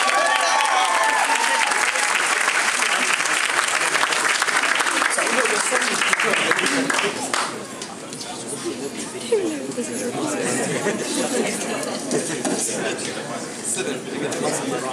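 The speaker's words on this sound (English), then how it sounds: "give them a big round of applause" Wedding reception guests give the newlyweds a big round of applause, a dense sustained clapping that fills the room with crowd chatter mixed in, easing slightly toward the end.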